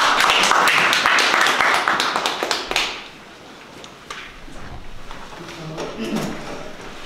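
An audience at a Korean policy forum breaks into applause to welcome a speaker, with dense clapping for about three seconds before it fades to scattered claps and quiet room noise.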